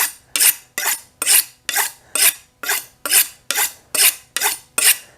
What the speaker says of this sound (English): Got to start by sharpening our knife a little bit.